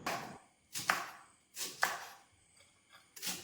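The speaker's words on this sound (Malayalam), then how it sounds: "നമ്മൾ ചെറിയ ചെറിയ കഷ്ണങ്ങളായിട്ട് മുറിച്ച് എടുക്കും" A knife chops through raw mango on a board in four crisp, evenly spaced strokes, close and quiet with silence between them.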